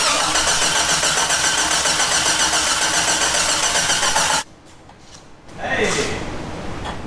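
A Jeep with a 4.6 stroker engine cranks loudly and steadily for several seconds, pauses briefly, then catches with a quick rising rev, heard close and without talk.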